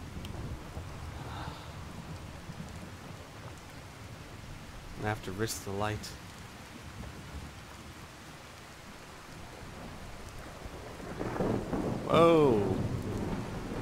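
Steady rain with rumbling thunder during a storm in the video game Fallout 4, a continuous hiss with louder swells, heard under a man's speech and exclamation.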